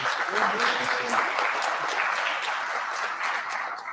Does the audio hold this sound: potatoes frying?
no